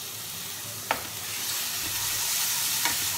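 Egg curry masala frying in ghee over low heat, a steady close sizzle and crackle running throughout, with two brief scrapes of a spoon stirring the pan.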